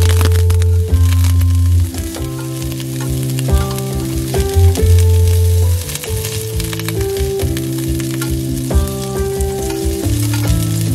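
Chopped onion hits a hot pan alongside honey lemon garlic pepper chicken thighs, giving a loud, steady sizzle and frying crackle that runs continuously for the whole stretch with no talk.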